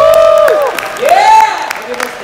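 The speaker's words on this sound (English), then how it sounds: "So please give some cheers and all the leaders from Malaysia a warm applause." Seminar audience cheering and applauding, with loud rising whoops and shouts over a bed of clapping, close and energetic.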